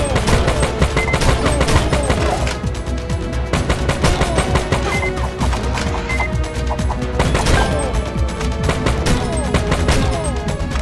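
Rapid gunfire in the video game Major Mayhem, dense machine-gun bursts rattling continuously and loud through the scene, with a few sparse game effects and little talk.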